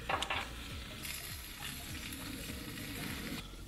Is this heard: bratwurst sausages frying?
yes